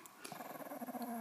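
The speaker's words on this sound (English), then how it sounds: "No, no growling." A small dog gives a low, faint, rumbling growl that pulses in short waves for about a second, heard up close and alone.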